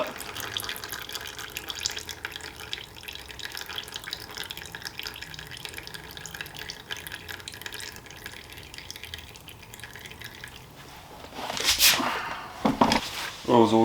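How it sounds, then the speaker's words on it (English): Used engine oil drains from a generator's sump into a catch container, a steady pouring trickle with drips that turns to louder splashing and gurgles near the end. "Oil's all drained out now."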